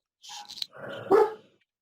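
A small dog barking indoors, a few quick yaps building into one louder, longer bark, close and clear with no talk over it.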